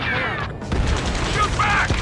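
Battle gunfire in the video game Ace Combat 7, dense crackling bursts of shots running continuously under urgent shouted radio chatter, close and loud throughout.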